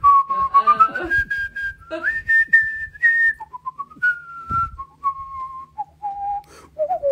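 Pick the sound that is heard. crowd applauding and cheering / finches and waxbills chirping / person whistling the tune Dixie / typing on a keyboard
person whistling the tune Dixie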